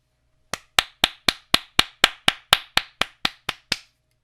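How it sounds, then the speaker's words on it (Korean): Thirteen sharp hand claps at a steady, even pace, close and crisp, with no talking. "다시 한번 박수 소리를 입력을 해볼게요."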